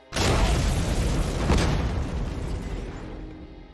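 A loud explosion in an action film bursts in suddenly, followed by a rumbling roar that gradually fades.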